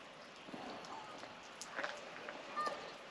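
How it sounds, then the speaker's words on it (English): Light drizzle patters softly and irregularly outdoors at a campsite, faint scattered droplets over a quiet background with a few slightly louder taps. "It's drizzling."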